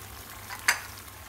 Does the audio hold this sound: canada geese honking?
no